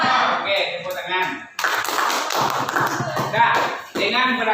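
A classroom of students claps their hands together, a burst of brisk, fairly loud applause lasting a couple of seconds, with a teacher's voice speaking before and after it.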